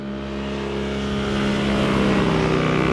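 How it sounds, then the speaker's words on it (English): A Yamaha MT03 motorcycle fitted with a full exhaust system rides off, its engine note rising steadily in a buzzing, revving drone that grows louder over a few seconds, close and with no talk. "MT03 with its brand new full exhaust system and its new brakes"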